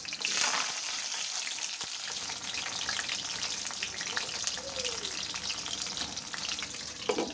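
Pumpkin leaf fritters fry in hot oil with a steady, soft sizzle and scattered crackles, close by and continuous, no voices.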